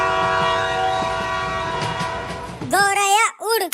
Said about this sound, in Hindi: तो जल्दी ट्रेन की सीटी बजाओ।